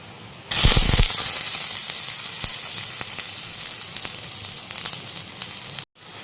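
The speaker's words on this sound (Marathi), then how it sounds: "त्यामध्ये सर्वात अगोदर लसूण आणि अद्रक टाकते तेल पण चांगलं गरम झालं आहे" Garlic and ginger hit hot oil in a wok, setting off a sudden loud burst of sizzling that stays steady and close with faint crackles, then cuts off briefly near the end.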